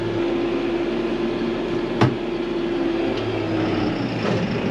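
A 2022 New Holland Workmaster 75 tractor runs steadily with its PTO engaged in a weed-chopping setting, a constant mechanical drone with a steady tone and one brief knock partway through, no talk.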